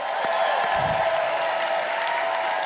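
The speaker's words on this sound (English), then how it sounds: "I think we need a little bit bigger round of applause for America's Real Doctor." Sustained applause from a large conference crowd at CPAC honoring a speaker, a dense steady roar of clapping with a few louder claps and some mixed crowd noise throughout.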